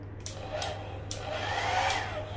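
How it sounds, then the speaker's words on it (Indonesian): A hotel bathroom hair dryer runs with a steady whirring hum, with a few brief clicks and handling sounds on top. The noise grows slightly louder toward the end. "Nyala ya hair dryernya."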